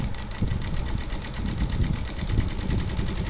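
Close, loud sewing machine runs continuously, stitching along both sides of a seam, with a fast rhythmic needle chatter throughout.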